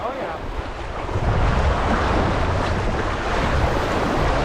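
Strong wind gusts across the microphone beside the Detroit River while fishing, a loud continuous rushing roar with surf-like swells, close and unbroken, with no speech.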